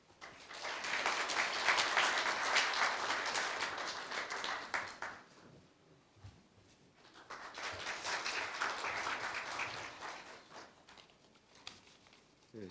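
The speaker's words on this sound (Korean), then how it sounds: "큰 박수로 맞이하여 주십시오." Audience applause at a university staff retirement ceremony arrives in two swelling waves of clapping, moderately distant in a hall, with a quiet lull between them.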